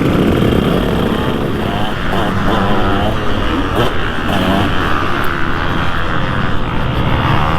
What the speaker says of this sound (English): First round, let's go out for a trail ride